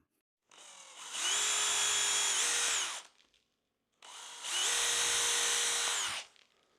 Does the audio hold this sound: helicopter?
no